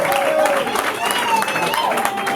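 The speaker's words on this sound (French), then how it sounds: "On applaudit pour eux," Wedding guests applaud the newly married couple at an official ceremony, a steady round of clapping from a crowd, with voices and cheers rising over the hands.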